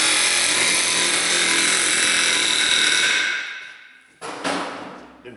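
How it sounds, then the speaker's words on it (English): An air hammer loosens a stuck brake rotor on a Suzuki XL7. The loud, continuous rapid hammering chatter fades out, then a brief second burst follows. "so I'm gonna use the air hammer."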